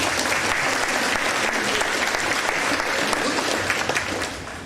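Crowd at an FFA chapter banquet gives a round of applause, loud, steady clapping from many hands that carries on for several seconds before starting to taper off at the end.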